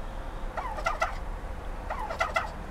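Turkey hens and a new male gobble and chatter in two short bursts of rapid calls, moderately close, over a low background rumble with no talking.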